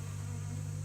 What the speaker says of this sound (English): I got some bees somewhere around me.